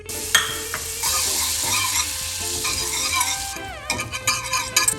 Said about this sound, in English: Melt 25 grams of butter in a saucepan.